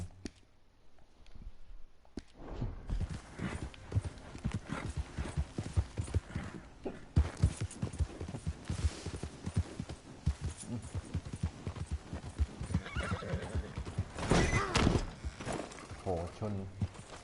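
A horse gallops in Red Dead Redemption 2, with fast, rhythmic hoofbeats that start after a quiet opening and run loud and close, while someone talks over them now and then.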